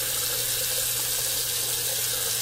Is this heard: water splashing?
yes